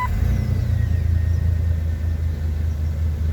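A car engine turns over and starts just after an oil pressure sensor replacement, with a steady low mid-pitched running note that holds near and fairly loud without talk.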